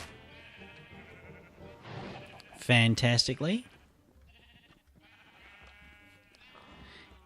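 Sheep bleating in Minecraft with the FTB Regrowth modpack: several short, nasal bleats scattered across the scene, with someone briefly speaking in the middle.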